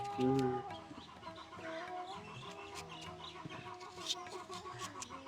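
Chickens cluck repeatedly at close range, with a louder squawk near the start and a person talking faintly underneath.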